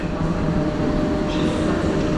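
A train pulling out at Kraków Główny station, a steady loud low rumble of rolling stock and machinery filling the platform without a break, and nobody speaking.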